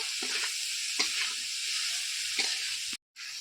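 Boiled peas stirred into frying masala for ghugni produce a soft, even sizzle with occasional gentle scrapes of a spoon, then a brief cut to silence before the sizzling resumes.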